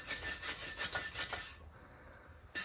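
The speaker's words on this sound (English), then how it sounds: "Really not much to scrape on the side here." Scraper rasping across gritty, poorly painted car bodywork in a steady run of close rubbing strokes, stopping partway before one last short scrape.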